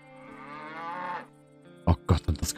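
A cow in the video game Above Snakes moos in one long, loud, drawn-out call, followed by a few short, sharp knocks or thumps.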